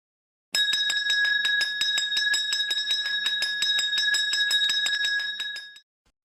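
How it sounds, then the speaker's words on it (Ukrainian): A small bell rings in fast, continuous strokes for about five seconds, bright and close, alone with no talk, during a children's session guessing musical instruments. "Правильно, це дзвоник."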